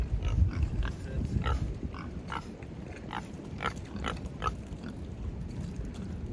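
Pigs grunt and snuffle in a muddy pen, a run of close, repeated low grunts and oinks over a rough outdoor background.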